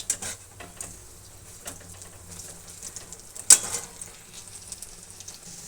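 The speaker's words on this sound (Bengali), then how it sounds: "তো এদিকে দেখো ডালের বড়া তৈরি হচ্ছে কত সুন্দরভাবে একদম" Lentil fritters (dal bora) fry in hot oil with a soft, steady sizzle and crackle, faint and continuous, with one sharper pop partway through.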